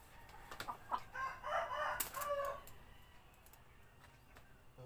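A rooster crows once in the morning, fairly faint and distant. There are a few brief rustles and clucks around the call, and no speech.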